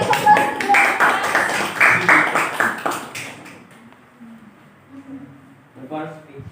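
Classroom students clap together for a few seconds, a dense patter of hands with an adult voice speaking over it, before the clapping dies away into quieter talk and room noise.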